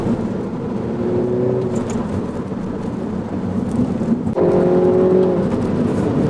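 A Mini Cooper S F56 drives a winding, bumpy English B road. Steady close cabin rumble of engine and tyres runs throughout, swelling slightly louder after a brief dip near the four-second mark.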